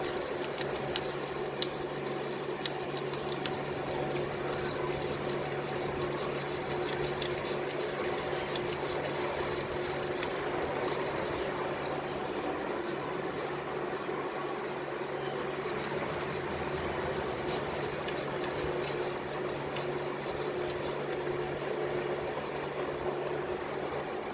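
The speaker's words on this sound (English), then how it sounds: "It's 1500 grit. Polish this back out." Steady hand sanding of an engine part with 1500 grit sandpaper during reassembly of a Miller Trailblazer 250 welder engine, a continuous soft rubbing rasp that runs unbroken and close for the whole stretch.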